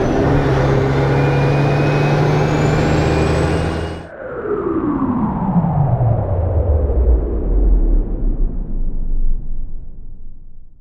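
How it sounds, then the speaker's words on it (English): A truck pulling away along a flooded rural road, its engine rumble loud and close at first, then a sudden drop as it moves off and recedes into a falling, fading drone. "there goes Andy with the truck"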